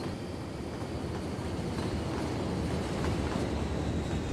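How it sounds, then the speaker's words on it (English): Intercity 125 passenger train rolling past on a railway line in the city-building game Cities Skylines, a steady, fairly loud rumble of wheels and rails that holds continuously throughout with no breaks. "Oh, there, I recognise that train. It's an Intercity 125."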